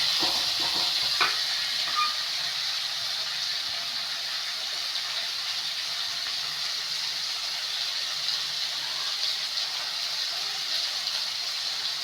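Onion, tomato and green chili sauté in a pan with a loud, steady sizzling hiss that holds evenly throughout, with a couple of faint utensil knocks near the start and no speech.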